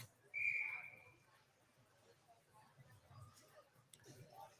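Referee's whistle at an ice hockey game, a single short, fairly faint tweet early on, followed by quiet arena ambience and distant talk.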